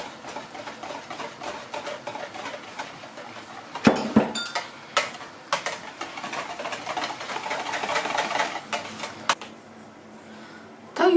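Gelatin stirred with jelly in a bowl for a no-bake peach cake gives soft, irregular clinks and scrapes of a utensil against the bowl, coming in quick bursts at close range.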